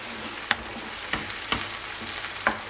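Crushed garlic sizzling in tomato paste in a pan while making kısır, with a steady crackling fry and four sharp spoon scrapes or taps spaced unevenly. No one talks.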